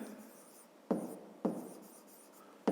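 Pen scratching across paper during a fifth-grade maths exercise, a soft continuous scrawl broken by three sharper taps, close and quiet with no talking.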